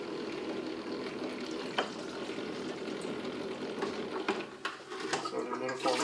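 Rinse water poured into a film developing tank while processing Adox Scala 50 film, a continuous splashing, trickling flow with faint clicks of handling, close and steady throughout.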